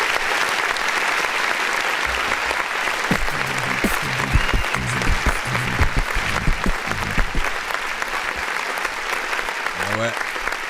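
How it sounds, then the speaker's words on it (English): A recorded applause sound effect, triggered by a clap button on a live music review stream, gives a sustained dense clapping for the whole stretch, with someone talking over it partway through. "let me hit the clap button from the Steam"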